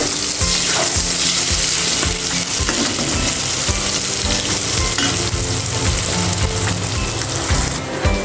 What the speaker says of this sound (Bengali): তো দেখো আমি এখন লাল লাল করে ভেজে নিচ্ছি।